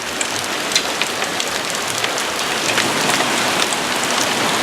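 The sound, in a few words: hail falling on a house roof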